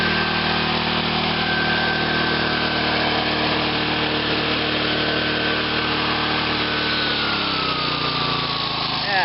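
Small nitro engine of an OFNA Raider 2 RC car running free without a governor: a steady high-pitched buzzing whine held loud and close, dipping slightly in pitch near the end.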